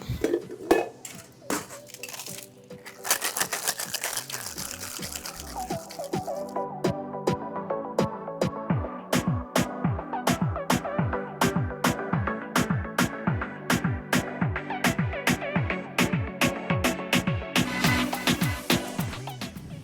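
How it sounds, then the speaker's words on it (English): Ice rattles in a cocktail shaker as a piña colada with coconut cream is shaken by hand, a steady rhythmic series of sharp metallic clacks after a few scattered knocks and pours, fairly close and alone. "Instead of blending it, we're gonna shake it."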